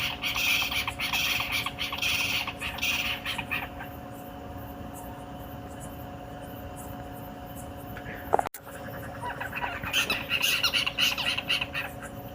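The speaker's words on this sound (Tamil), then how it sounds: "ஏதோ ஒரு பறவை சத்திரம் கத்த சவுண்டு கேட்குங்க" A bird squawks repeatedly at night in harsh, scratchy bursts, loud at first, then fainter and more distant, with a sharp knock partway through before the calls return.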